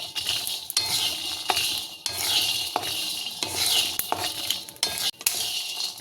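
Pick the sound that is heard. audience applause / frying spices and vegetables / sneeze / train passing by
frying spices and vegetables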